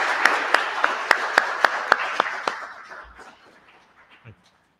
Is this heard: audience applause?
yes